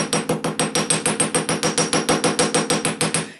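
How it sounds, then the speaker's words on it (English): Steady hammering of metal wire with a chasing hammer, about twenty sharp, evenly spaced strikes in quick rhythm, close and loud with no talking. "and you just start hammering."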